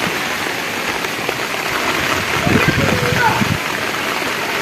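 Floodwater pours across a waterlogged village road at Parakkal on the Panthavoor route, a loud continuous rushing wash with a slight swell midway, heard close and alone.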